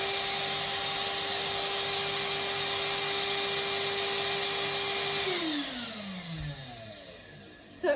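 A repaired Numatic vacuum cleaner runs close by with a steady whining drone, then is switched off and winds down, its pitch falling before it goes quiet.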